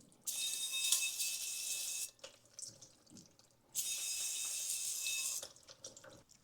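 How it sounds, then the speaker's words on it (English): Water sprays from a hose or tap to rinse a Honda Civic brake rotor, two loud steady hissing bursts of about two seconds each, separated by a short pause of drips and small rattles. "now we're gonna give this a good rinse"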